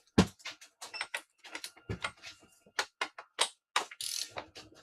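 A torque wrench clicks and ratchets while tightening bolts on a Ford Festiva six-speed transmission, giving a series of irregular, sharp, close mechanical clicks and rasps with brief pauses between them.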